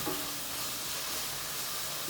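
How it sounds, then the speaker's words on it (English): Chopped garlic with a pinch of salt hisses and sizzles steadily in a hot pan as it is stirred, a dense close frying crackle. "Quickly chop this garlic. Bit of salt. I'm gonna give it a good mix around."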